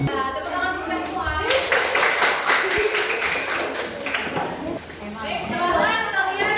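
Classroom clapping from students during a teacher's lesson: a burst of many hands clapping begins after a second and carries on for several seconds, fairly close, mixed with voices.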